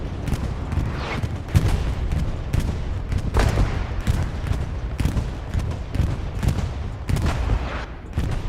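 Bombing run in Hell Let Loose on the Hürtgen Forest map during a competitive match: a dense, continuous rumble of overlapping explosions and gunfire, with repeated heavy bursts rolling through the whole stretch at a steady loud level.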